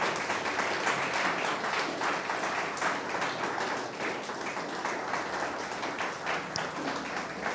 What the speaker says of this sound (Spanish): Denle el aplauso al Señor y la alabanza.